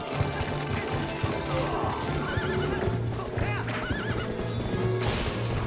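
Horse neighs and whinnies over rapid galloping hoofbeats and clashing impacts during a horseback duel against Ganondorf in Zelda: Twilight Princess, with game music and a voice briefly speaking.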